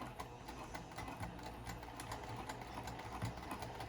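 A sewing machine stitches a zipper pouch with quick rhythmic mechanical ticking, steady and close, running evenly with no pause and no talking.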